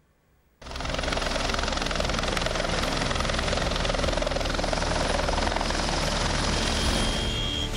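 A helicopter over Allahabad during a minister's visit bursts in after a brief quiet start, then holds a loud, steady rotor and engine roar close by for the rest of the clip.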